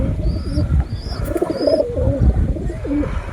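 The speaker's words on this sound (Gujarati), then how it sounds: "બધી કબૂતરને ચાણ ખવડાવતા બચ્ચાને નહીં જોયું હોય જોઈ લ્યો" Pigeons coo and call close by as adults feed their chicks, soft repeated cooing phrases with a few higher chirps over a steady background rumble, with no talking.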